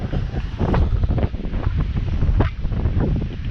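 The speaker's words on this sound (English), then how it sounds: "Wow, it's quite windy." Strong gusts of wind buffet the microphone, producing loud, rumbling low-end blasts that rise and fall throughout, with no voices.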